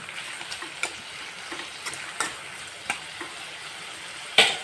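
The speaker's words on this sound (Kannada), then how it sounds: "ಕಬಾಬ್ ಇತ್ತುಂಡು ಫ್ರೈ ಮಾಡ್ತದ" Kebab pieces frying in a pan, a faint continuous sizzle with sporadic soft ticks and pops and one sharper crackle near the end.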